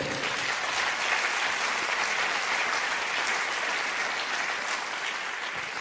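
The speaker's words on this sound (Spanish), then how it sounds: "Denle un aplauso fuerte al Señor" A church congregation applauds during a sermon on fasting, sustained dense clapping filling the room at an even, loud level throughout.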